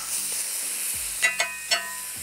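Food frying on an EcoZoom Versa rocket stove fed with twigs, a steady loud hiss broken by three sharp scrape-and-sizzle bursts as pieces are flipped.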